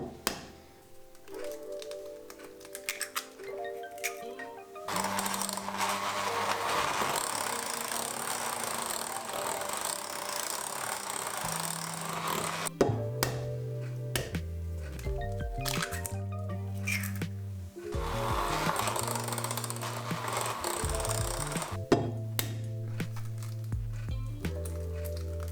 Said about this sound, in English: we are going to add the eggs one at a time and mixing for about half a minute in between